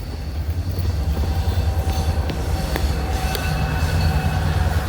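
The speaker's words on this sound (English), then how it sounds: "Train." A short train rumbles past nearby on the Schuylkill River Trail with a deep, steady roar and faint metallic clicks and squeals over the wheels, continuous for the whole stretch.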